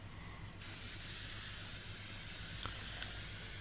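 A steady broadband hiss of an aerosol can spraying leather dye continuously, close by, with a low mechanical hum underneath and a couple of faint clicks.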